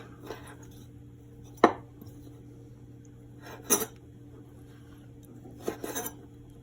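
A knife chops a peeled lemon into chunks on a cutting board: three separate, sharp, close thuds spaced a couple of seconds apart, with a quiet kitchen in between.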